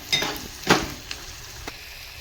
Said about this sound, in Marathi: कांदा पण छानपैकी परतवून घ्यायचं तांबूस रंगावर